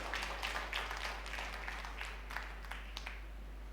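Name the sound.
congregation clapping hands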